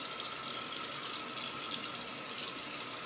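Water running steadily from a bathroom sink tap, a constant bright hiss and splash at moderate level with no talk.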